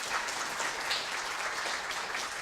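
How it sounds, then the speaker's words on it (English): Applause for a primary school class at a poetry anthology book launch, a dense steady wash of many hands clapping throughout, close and fairly loud. "Big round of applause for Throston."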